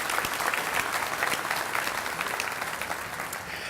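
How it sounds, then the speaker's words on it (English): An audience applauds the JA volunteers at a Rooster Booster business breakfast: dense, steady clapping from a crowd that stays loud for the whole stretch, with no voices over it. "so give them a round of applause for being here as well today"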